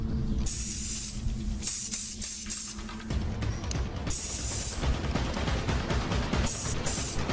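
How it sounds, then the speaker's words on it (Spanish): Spray can bursts hiss loudly in several long blasts separated by short gaps, with rustling and handling noise between them. "le ha tirado spray a la cara"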